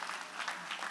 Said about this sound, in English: Give my mother a round of applause.